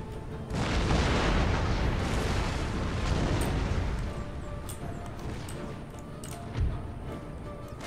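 Cannon and artillery shells in Empire Total War boom out in a heavy rumbling barrage, a long rolling roar followed by a single closer thump, with scattered crackles fading behind.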